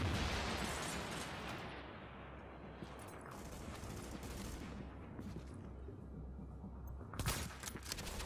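Grenade blast amid gunfire in the shooter game Tom Clancy's The Division, set at the Lexington Event Center: loud, dense rumbling bursts of fire throughout, with a sharp crack near the end and no talking.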